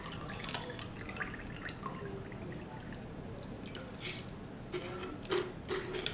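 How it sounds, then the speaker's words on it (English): Soaking water drains from a jar of buckwheat groats at a sink, with quiet irregular drips and trickles that grow slightly louder toward the end. "then we're going to let this water drain"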